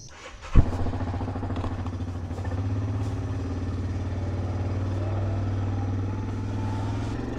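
Four-wheeler ATV engine on a farm, a sharp clack at the start and then a steady low rumbling drone that holds close and even while riding, with no speech.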